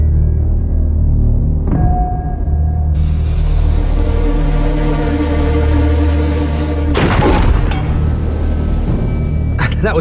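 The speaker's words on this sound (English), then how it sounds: "Not knowing how it will react, Richard rigs the fire lance so he can fire it remotely." Replica fire lance loaded with small stones and about 1.5 ounces of powder, fired remotely: a loud blast-like surge with a sharp crack later, set over continuous heavy rumbling background noise.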